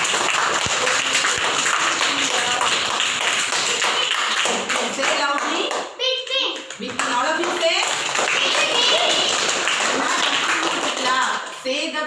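Young children clap together in a classroom, rapid uneven claps and taps mixed with lively chatter, briefly pausing midway before the clapping and voices resume.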